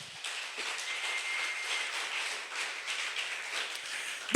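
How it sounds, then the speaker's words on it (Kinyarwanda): A church congregation claps in applause for God during a sermon, a steady broadband patter of many hands that fills the room at moderate level without talk. "Nkomerera Imana amashyi."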